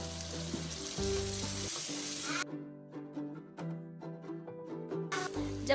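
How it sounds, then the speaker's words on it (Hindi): Chana dal roasting in a pan for a dhaba-style dish gives a loud, steady sizzle and hiss at the start and end, dropping back in the middle where sustained musical tones take over. No one speaks. "अब इसमें मैं दाल शामिल करूंगी और अब इसे अच्छे तरीके से भुनेंगे"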